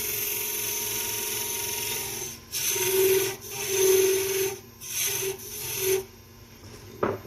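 Rhythmic rasping of a metal file filing down a ring, several back-and-forth strokes, each a few seconds long with brief pauses between, close up and loud.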